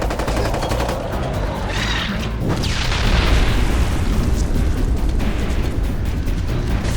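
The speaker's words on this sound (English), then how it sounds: "It's gonna explode! Move away!" Explosion in the video game Ghost Recon Advanced Warfighter 2: a loud boom near the three-second mark gives way to sustained rumbling and crackling battle noise that continues to the end.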